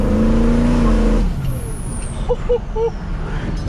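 A loud, tuned 6.0 Powerstroke diesel pickup truck engine with a large turbo roars, then a turbo whistle and hiss of air release as it revs down, with brief chirping squeals near the end.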